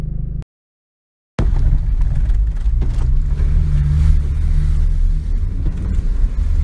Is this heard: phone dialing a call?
no